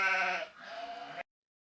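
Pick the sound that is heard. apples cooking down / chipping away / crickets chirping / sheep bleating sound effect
sheep bleating sound effect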